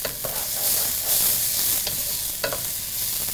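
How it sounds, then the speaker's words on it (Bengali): Rice for pulao is stirred and fried in a pan, giving a loud, continuous sizzle broken by a few sharp scraping strokes of the spoon. "চালটা যখন ভাজা ভাজা হয় তখন কিন্তু একটা মানে সাউন্ড হয়।"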